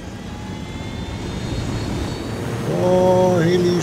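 Helicopter climbing in the video game Ghost Recon Wildlands: a steady engine and rotor drone that swells louder near the end, with rising tonal whine layered over the rumble.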